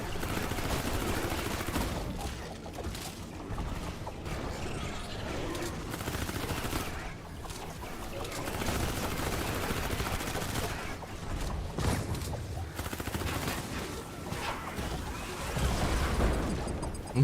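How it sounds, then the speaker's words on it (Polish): Bombs blow up in a video game, a dense, continuous run of loud overlapping blasts and crackling bursts that keeps going without a break. "te bomby wybuchające"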